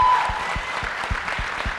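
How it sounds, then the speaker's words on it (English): An audience applauding at a town hall on students stopping gun violence, a steady dense clapping from a crowd filling the room, loud and continuous throughout. "A big round of applause."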